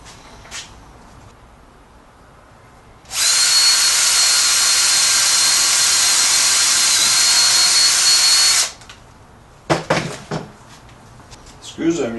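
A power drill drives deck screws into a round piece of wood during a table repair, one steady, loud whirring run of several seconds followed by clatter and handling knocks.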